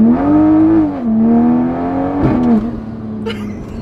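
A turbocharged car on a dyno revs hard with a sustained, smooth engine tone that climbs, dips as it shifts, then climbs again, loud and close, with no talking.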